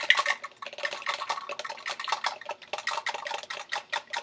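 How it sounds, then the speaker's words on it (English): A spoon swirls through a cup of mashed strawberry and dish soap, giving a quick, continuous run of light clinks and wet sloshing taps against the cup's sides, close and fairly loud, with no voices. "we are just going to stir our cup"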